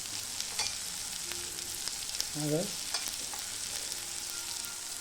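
Onion masala with red chili powder sizzles in hot oil in a pan, a steady crackling fry close by with a brief scrape of stirring midway; a voice speaks briefly.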